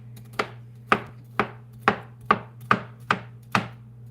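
A knife chops through a pan of homemade cornbread on a cutting board in a kitchen, eight crisp, evenly spaced cuts over a steady low hum, with no talking.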